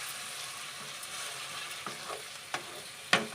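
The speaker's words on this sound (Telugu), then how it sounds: "ఇప్పుడు సన్నగా తరిగి పెట్టుకున్న టమాటాస్ వేసేద్దాం" Five finely chopped tomatoes fry in a pan with a steady soft sizzle, broken near the end by a few sharp scraping stirs, with no talking.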